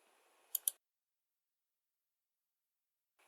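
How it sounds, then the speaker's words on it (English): Two quick, crisp computer mouse clicks close together, near and clear, followed by near silence. "simply by clicking on these scenes on the left, we can swap between these different scenes"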